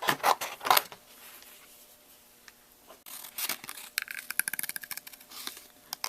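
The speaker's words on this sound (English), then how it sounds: "I'm going to just take my scissors and cut that to a manageable" Scissors cut cardstock at a crafting table in close, quiet snips and scrapes, with a pause in the middle and a quick series of sharper cuts and paper rustles at the end.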